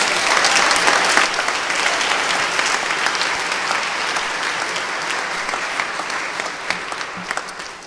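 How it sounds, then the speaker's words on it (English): An audience at a high school baccalaureate ceremony applauds. The clapping is loud and sustained at first and gradually thins out and fades. "Can we give them another round of applause"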